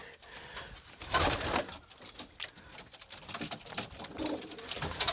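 Pigeons, a red-tailed pair, coo and scuffle over a nesting spot, with soft throaty calls, wing flaps and patter close by, rising and falling in bursts with no talk.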